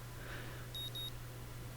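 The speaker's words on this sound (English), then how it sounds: "My alarm's beeping shatters the early morning quiet" Alarm clock in the video game Katawa Shoujo giving a few short, faint electronic beeps in quick succession over a low steady hum.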